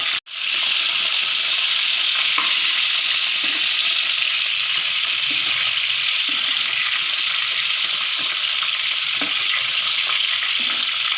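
Capsicum peppers sizzle and fry steadily in a hot pan, a continuous bright hiss with a few soft clinks and shuffles as the pieces are flipped, close and loud with no talking.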